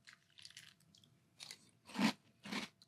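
Malt-O-Meal Key Lime Pie Crunch cereal in milk is chewed close up, with soft crunching that builds into a few loud, wet crunchy bites.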